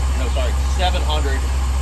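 A car engine freshly fitted with Holley Terminator X Max fuel injection idles at about 900 rpm as a steady low rumble beneath a man's speech.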